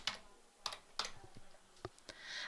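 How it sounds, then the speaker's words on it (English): Postcode being typed on a computer keyboard in an office: a handful of close, crisp key clicks in an irregular rhythm, fairly quiet, with no talking. "I'm just going to type in the postcode in here"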